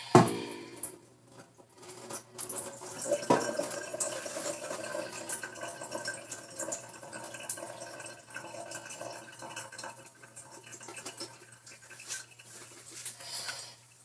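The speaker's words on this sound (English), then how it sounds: "Drain the juice off of it first." Juice draining from a can of salmon being prepared for salmon croquets, a steady light trickle and patter of liquid running into a sink, close by and continuing with small splashes, no voices.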